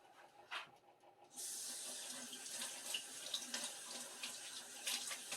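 Tap water runs into a sink while an espresso cup is rinsed, a steady close hiss and splash starting after a brief clink and continuing alone to the end.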